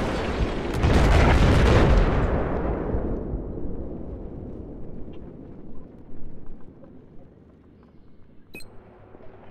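A helicopter explodes in the video game Battlefield 4 with a loud, deep boom that rumbles and slowly fades over several seconds, followed by quieter game noise and a sharp click near the end.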